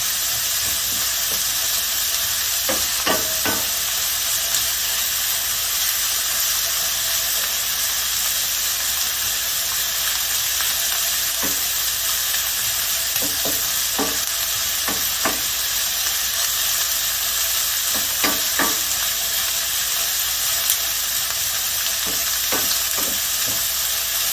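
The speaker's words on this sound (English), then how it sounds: "that's why I like the saltfish fry up a little bit" Steady, dense sizzling of saltfish frying in a hot pan, with occasional soft clinks and scrapes of stirring over the continuous crackle.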